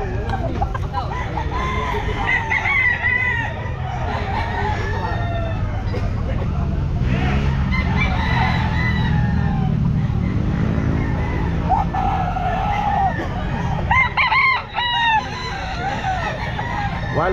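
A stag gamecock crows at a busy pet market, several strained, wavering calls rising above a bustle of chatter, clucking fowl and passing traffic, with people talking close by throughout.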